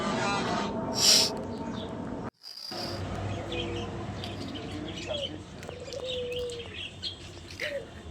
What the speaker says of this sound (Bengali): এখানে কিছু পাখি আছে, কিছু পাখি দেখা যায় খাঁচার মধ্যে